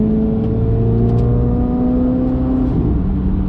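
A Corvette C8 Z06 sports car accelerating hard on a race track, heard from inside as a loud, sustained engine drone with rising tonal whine, steady and continuous throughout without talking.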